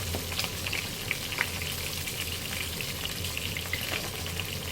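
A chicken steak fries in a pan with melted butter spooned over it, giving a steady, dense sizzle and crackle with faint popping, close and continuous, with no voices.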